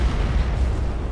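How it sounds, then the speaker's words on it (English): A single deep, rumbling spore mine explosion in the space battle game Battlefleet Gothic 2, a loud low boom that fills the moment without speech. "Spore explosion!"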